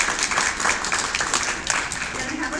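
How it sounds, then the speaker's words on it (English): Applause in a school board meeting room, a moderate wash of many hands clapping steadily, with speech mixed in over the clapping. "Let's give them another round of applause."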